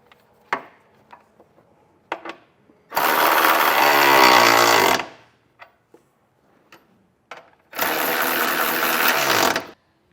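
A 17mm socket on a power tool snugs down the bolts of a trailer hitch receiver being installed on a 2024 Kia Sportage, giving two loud, steady bursts of rapid rattling several seconds apart, with light metallic clicks and taps between.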